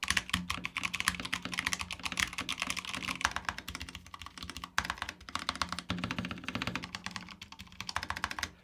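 Steady, rapid clacking of keys on an unmodded Drop mechanical keyboard, close and continuous, with a few brief pauses in the rhythm.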